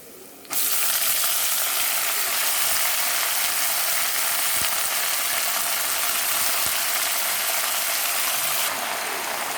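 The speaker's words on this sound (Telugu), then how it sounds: "మిగిలినవి తోటకూరతో పాటు వెల్లుల్లి కరివేపాకు వేగుతూ ఉంటాయి కదా." Amaranth leaves with garlic and curry leaves fry in a hot pan as a loud, continuous, close sizzle that fills nearly the whole stretch without pause. No one speaks over it.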